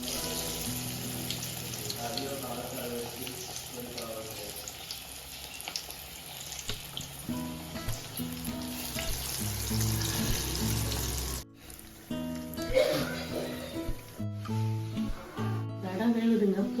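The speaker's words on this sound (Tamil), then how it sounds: "நம்ம இப்போது வந்து கடாயில் போட போகிறோம். காஞ்ச எண்ணெயில் விட போகிறோம்" Vada batter sizzles as it drops into hot oil in a kadai, a continuous hiss and crackle with clinks and handling noises, while a person talks over it at times.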